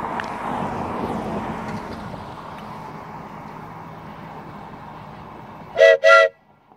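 Kiamichi Railroad train in Idabel, Oklahoma, passing with a broad rumbling roar that fades, then two short loud horn blasts close together near the end.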